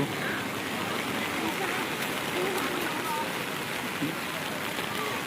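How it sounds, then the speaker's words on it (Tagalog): Heavy rain pours down at Patungan Beach under a darkened sky, a steady dense hiss of water on surfaces that holds at constant loudness throughout, with faint voices occasionally under it. "Lakas ng ulan, Dilim ng paligid."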